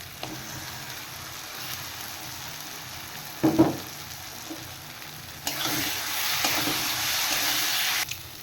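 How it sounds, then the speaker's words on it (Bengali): Spice paste with fried potatoes sizzles and is stirred in a pan for a fish curry, a steady frying hiss with a brief scrape of the spoon midway, then a louder, brighter sizzle for the final few seconds. "এবার মশলাটা ভালো করে কষিয়ে নেব"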